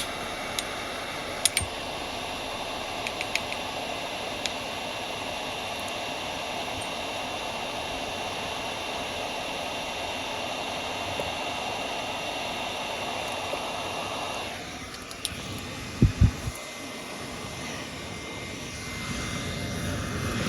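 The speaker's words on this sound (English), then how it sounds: "These heat guns are exceptionally hot." A heat gun blows a steady, loud broadband roar while shrinking heat shrink tubing, running continuously for about fifteen seconds before its pitch drops, with a couple of sharp knocks near the end.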